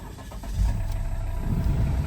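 A hot Volvo XC90 engine cranks and catches in a short start, rising into a low, close rumble that settles toward idle.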